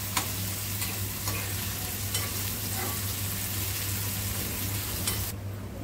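A large onion frying in hot oil in a home kitchen, giving a steady, close hiss of sizzling with occasional light clicks of stirring, no voices, cutting off abruptly near the end.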